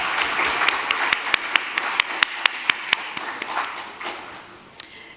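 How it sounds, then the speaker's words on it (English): Scattered hand claps from a small audience at a poetry reading honoring the writers, a thin, fairly even patter of sharp individual claps that fades out toward the end. "Another round of applause for the writers."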